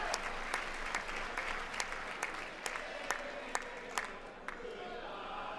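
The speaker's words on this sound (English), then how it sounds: "all the Republicans, like, clapped so hard whenever he did it" Sustained applause fills a congressional chamber during an address, a dense wash of many hands clapping with scattered louder claps, heard at a moderate distance with faint crowd murmur underneath.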